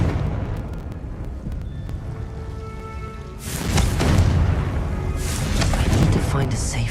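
A Confringo fire spell in the Hogwarts Legacy video game lands with a rumbling explosive boom and a crackling burst that swells midway and lingers over low game ambience, loud and near.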